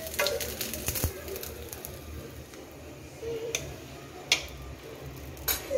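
Beef boti reshmi kababs frying in a frying pan, a faint steady sizzle with occasional sharp ticks and crackles of spitting oil, quiet and close, with no talking.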